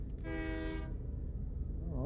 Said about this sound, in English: Is this what they would call a shunter then, for shunting stuff around the yard?